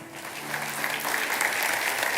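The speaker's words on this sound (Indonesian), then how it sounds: "Kasih tepuk tangan untuk Tuhan." A church congregation applauds during Pastor Philip Mantofa's sermon, a full, sustained burst of clapping over a faint low hum at the start.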